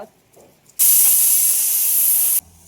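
A loud, steady high-pitched hiss of a pressure cooker whistle, the fourth whistle, bursts out close by, lasting over a second before cutting off abruptly.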